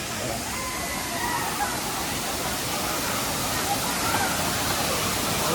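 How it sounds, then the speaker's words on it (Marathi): A waterfall on the Konkan coast with people standing around it, heard as a loud, dense, continuous rush of falling water with no letup, and a voice speaking over it. "तुम्ही बघू शकता वॉटरफॉल किती सुंदर आहे"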